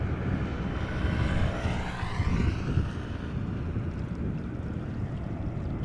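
An airliner taxis toward the runway at Amsterdam Schiphol Airport, producing a steady, fairly distant engine rumble. A faint shifting whine rides over the low roar, with no voices.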